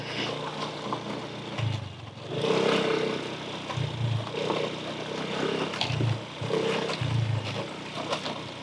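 A motorcycle engine rumbles while riding through the countryside in Ninh Binh, Vietnam, with heavy wind buffeting the microphone in uneven gusts throughout.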